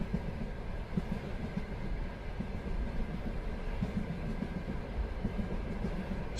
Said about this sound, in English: The train glides smoothly into a new landscape, the steady rhythm of its wheels unchanged